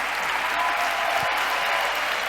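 Sustained applause from an audience at a motivational conference for self-employed people and small businesses, a dense, steady wash of many hands clapping with no gaps, fairly loud and close, without talk.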